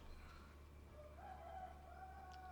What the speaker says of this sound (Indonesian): Ada suara ayam lagi, sih.